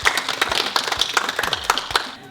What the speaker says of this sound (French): Vous pouvez l'applaudir quand même.